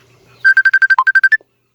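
A mobile phone ringtone plays a quick run of about ten bright, evenly spaced electronic beeps, loud and close, then stops.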